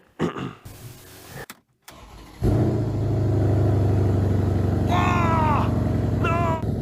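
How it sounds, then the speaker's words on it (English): A Mercedes E63S AMG with a DPF delete starting up: a brief crank after some shuffling, then the engine catches with a loud burst and settles into a deep, rumbling idle, close by. A voice exclaims near the end. "I suggest we start the car together, and I think the sound is going to be a bit nicer."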